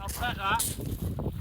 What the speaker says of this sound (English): Sorry about the wind, it is bloody blowy.